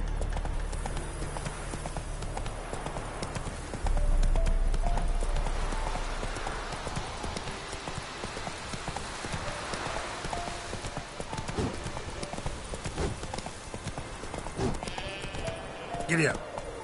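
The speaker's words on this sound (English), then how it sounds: "Giddy up." Horse hooves clip-clopping at a steady run in The Witcher 3 game on PS5, a continuous rhythmic patter with wind and ambient game sound, and a voice urging the horse on.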